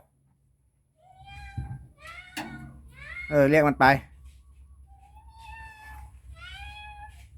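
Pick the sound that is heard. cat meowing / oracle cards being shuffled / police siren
cat meowing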